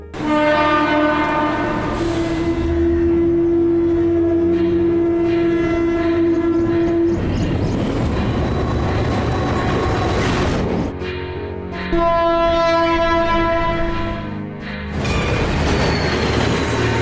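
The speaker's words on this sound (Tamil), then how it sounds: "Railway station, Taramani." A train at Taramani railway station sounds its horn in long sustained blasts, first alone and then again after a burst of rumbling, clattering wheels as the cars pass close by.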